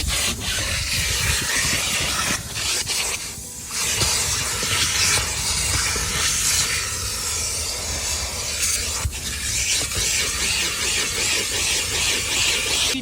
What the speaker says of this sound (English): this is the Tornador, so it's able to blow most of the pet hairs off them